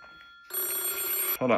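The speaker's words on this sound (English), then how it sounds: "I'm getting a phone call." A telephone rings loudly in a single sustained burst of bright electronic tone that starts abruptly and cuts off just as a voice begins.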